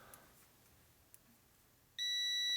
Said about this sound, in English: And there, beep beep tells you it's connected.